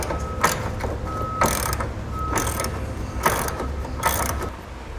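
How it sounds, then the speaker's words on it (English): A ratchet fitted with a 30mm socket works a nut off the back of a vehicle's tow hook, giving several close bursts of rapid clicking separated by short pauses. "Next we'll take a 30mm socket. Remove this nut here on the back of our tow hook."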